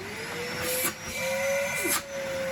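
A Henry HVR200 vacuum cleaner, street-found and repaired after a fault with its push-on push-off switch, runs close by with a steady roaring hiss and a high motor whine, briefly dipping twice as airflow changes.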